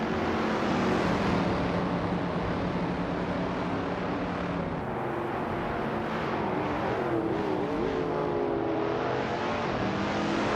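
Race cars in a racing video game, including a Porsche and a 1963 Alfa Romeo Giulia TZ, drone steadily through laps, with engine tones rising and falling as cars close the gap, continuous and loud without talk.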